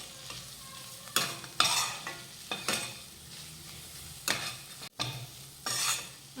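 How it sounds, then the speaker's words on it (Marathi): Spice powders, including coriander powder and red chilli powder, stirred in hot oil in a pan: soft sizzle under bursts of spatula scraping in several separate strokes, close and clear, with no voices. "आता हे मसाले मिक्स करून घेऊयात"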